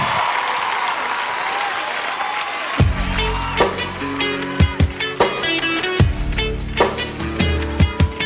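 A TV talent show audience applauds two performers, a dense, loud wash of clapping that then continues under the opening drum and instrumental beats of a song.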